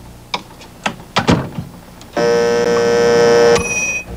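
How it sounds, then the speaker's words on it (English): A few sharp clicks and taps, then a loud sustained electronic beep from a 1986 microwave oven lasting over a second before it steps to a higher tone and cuts off. "the Willey household has what every modern household has: a microwave oven"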